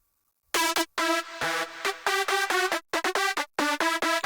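A bright, buzzy synth lead from the Spire synthesizer plays a dry drop riff of short stabbed notes with brief gaps, reverb and delay turned off, loud and upfront, with no voices.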